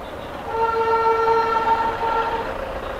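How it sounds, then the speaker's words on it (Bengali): A diesel toy train on the Darjeeling hill line passes near Ghum station, sounding a steady, fairly loud horn-like tone that holds for about two seconds over a low rumble, with no talking. "না টয় ট্রেন নেই, এটা একটা ডিজেল যাচ্ছে"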